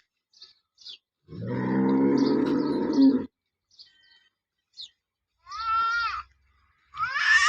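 A cow on a dairy farm lets out a long, loud moo lasting about two seconds, followed by shorter calls and a few faint animal noises.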